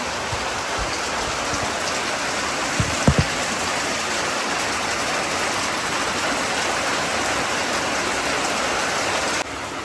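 Heavy monsoon rain falls outside a kitchen window in a dense, even hiss with no gaps, and a couple of brief soft knocks sound near the start.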